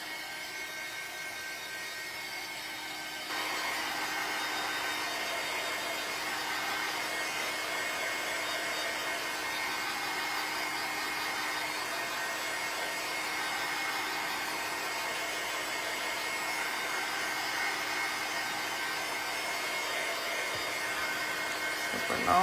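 A dryer blows over a card background in a loud, steady rush of air that starts a few seconds in and holds unbroken to the end.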